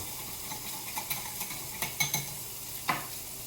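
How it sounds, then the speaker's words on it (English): Butter roux being whisked in a hot pan: soft, irregular scraping clicks from the whisk against the metal over a faint, steady sizzle, heard up close. "I'll whisk this in. Now, when you're making a roux,"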